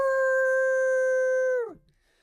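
A singer imitates a baby wolf howl in head voice, one sustained, steady, high pure tone held for about a second and a half before sliding down and fading out, close and clear.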